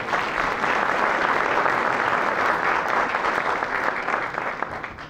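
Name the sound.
audience applause for the mayor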